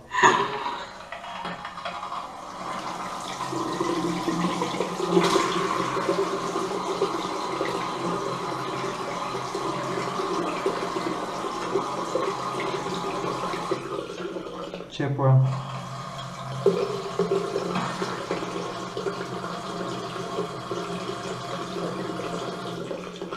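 Water gushes from a newly installed standing basin faucet over a sink, a steady rushing hiss with sputtering bursts as air is pushed out, and someone talks over it.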